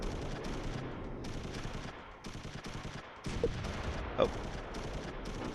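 Sustained small-arms and machine-gun fire in the video game Close Combat III, with troops shooting at a building during a Berlin battle, comes in steady bursts with brief gaps, and a voice speaks briefly.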